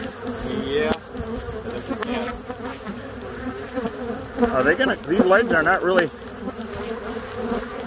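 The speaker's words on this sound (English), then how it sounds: "These bees are meaner than shit." A swarm of bees buzzes loudly and steadily around the recording spot outdoors, with a dense insect drone that swells midway while people talk briefly over it.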